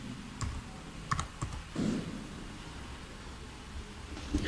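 Fingers typing on a computer keyboard in quick uneven bursts of clicks, fairly faint against a low background hum, with a few louder key presses.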